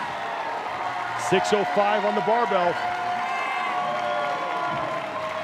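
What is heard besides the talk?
crowd cheering at a deadlift event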